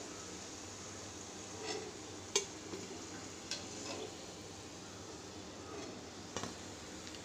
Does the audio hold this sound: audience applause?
no